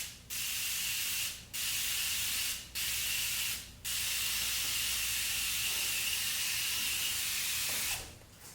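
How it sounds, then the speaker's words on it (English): Aerosol rust protectant sprayed onto steel pieces in four steady hissing bursts of one to two seconds each, separated by brief pauses, then one last longer spray near the end, close and fairly loud with no talking. "We're just going to spray it down. This will protect the steel and block new rust from forming for up to a year."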